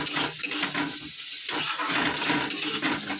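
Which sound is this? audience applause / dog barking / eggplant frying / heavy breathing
eggplant frying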